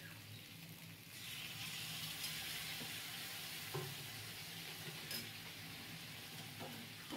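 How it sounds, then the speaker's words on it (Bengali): Spice paste with Kashmiri chili powder sizzles softly in a pan while being stirred, a quiet steady frying hiss with occasional scrapes and clinks, heard alone. "কাশ্মীরি লঙ্কার গুঁড়ো সব দিয়ে আবার ভালো করে কষবো।"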